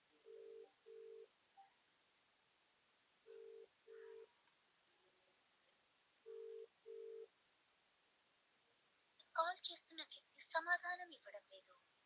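A phone ringback tone sounds in three paired bursts with pauses between, then a faint voice answers at the end.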